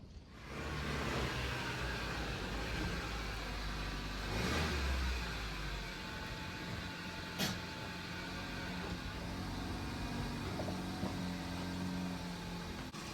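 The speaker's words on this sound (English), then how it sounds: "I'm just going to move the car a little bit to the side" An MK8 Honda Civic engine hums steadily at moderate volume while the car creeps along, with a brief rise in revs partway through and no talking.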